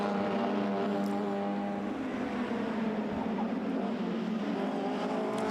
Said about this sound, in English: Nick Swift doesn't really worry about braking, just flings the Mini sideways and keeps his right foot buried against the bulkhead